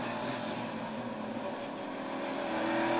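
NASCAR Cup Series cars drone past at Kentucky Speedway in a steady engine roar, a continuous buzzing whine that swells slightly louder near the end.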